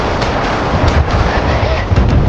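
Warship guns in the naval battle game Force of Warships fire in rapid succession, a dense, loud rumbling barrage of deep booms with little pause between shots.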